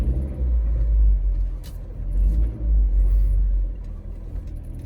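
A 2006 Mazda Miata LE with factory removable hardtop rolls slowly in reverse after a cold start, its low steady engine rumble close by and continuous, with no one talking.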